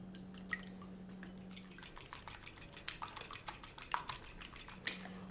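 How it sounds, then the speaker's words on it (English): A whole egg with salt and white pepper is whisked in a bowl, giving quick irregular clinks and taps of utensil on bowl, close and moderately loud, with no speech. "1 whole egg, add in half a teaspoon of salt, a few dashes of white pepper,"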